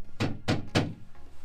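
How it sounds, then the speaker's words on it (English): Three heavy, evenly spaced thuds ring out from a two-ton steel vault door, each a dull booming knock that fades quickly, close and fairly loud with no voices. "this is my 2-ton vault door"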